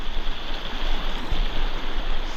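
Steady broadband rush of a waterfall spilling into a stream pool, continuous and fairly loud with no voices over it.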